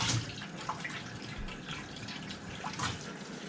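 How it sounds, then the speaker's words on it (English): Water poured into a pot of homemade soup, a steady splashing trickle that runs close and fairly loud without talk. "And I'm going to add some water."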